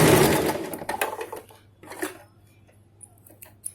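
A sewing machine stitches a straight salwar in a short burst of rapid needle chatter that fades into quieter clicks and handling sounds, with a steady low motor hum underneath.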